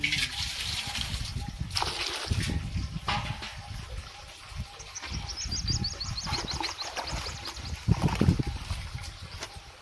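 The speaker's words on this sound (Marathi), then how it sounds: "दोन मिनिटातच भांडी भरतात" Water gushes and trickles steadily into household pots as they are filled, a continuous close splashing flow with faint background voices and outdoor sounds.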